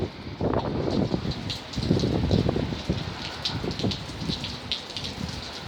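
Steady rain falling near a veranda in hot weather, a dense continuous patter with drops striking surfaces and a low rumbling undertone, moderately loud and with no talking.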